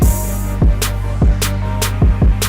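A hip hop beat in an older style, with deep booming bass hits and sharp hi-hat and snare accents in a steady, repeating loop, loud and close with no voices.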